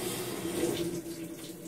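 Water rushes steadily into a GE top-load washer, model GTW330ASK4WW, filling for a load of clothes; a continuous, close hiss of pouring water with a low hum underneath, no talking.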